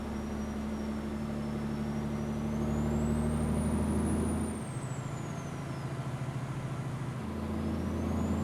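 A Mercedes Actros truck hauling sand from a mine near Kirkenes in Euro Truck Simulator 2 rumbles with a deep, steady engine drone that swells louder midway and then drops back to a lower hum, alone without talk.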